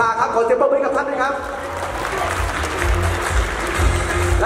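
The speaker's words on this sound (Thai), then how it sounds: "ขอเสียงปรบมือกับท่านด้วยครับ" An audience at a stage event for a project applauds a King Power group executive, sustained clapping that swells under a host's voice at first and then continues alone.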